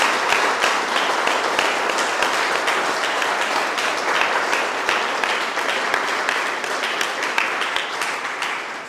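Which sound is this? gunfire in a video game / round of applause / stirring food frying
round of applause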